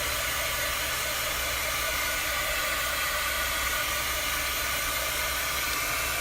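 A dryer blows over a chalk transfer with a loud, steady, unbroken whoosh close up, and no talking.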